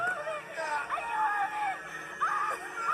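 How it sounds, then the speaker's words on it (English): A girl screams for help in a busy street scene, high strained cries rising and falling over nearby talk and crowd babble, with a second scream near the end. "Girl over here screaming, "Help me!""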